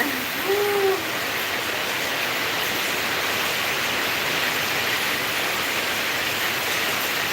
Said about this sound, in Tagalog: Ayan, oh, lakas ng ulan, oh.